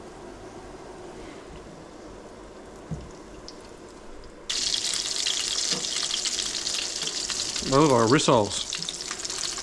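Abalone pieces fry in olive oil in a pan, giving a steady bright sizzle that jumps louder partway through as more goes in, with brief clinks and a short spoken line over it.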